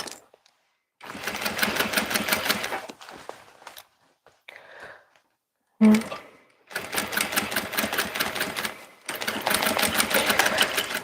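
A sewing machine stitching fabric for a Vogue 1870 garment runs in several loud, close bursts of rapid stitching, separated by silent pauses and brief quieter handling noises.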